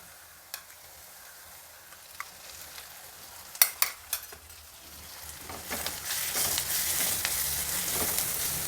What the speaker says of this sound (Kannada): ಚೆನ್ನಾಗಿ ಹುರಿಬೇಕು. ಸೊಪ್ಪಿನ ಹಸಿ ವಾಸನೆ ಎಲ್ಲ ಹೋಗೋವರೆಗೂ ಹುರಿಬೇಕು.